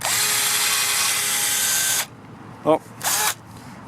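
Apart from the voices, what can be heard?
power drill boring into metal rod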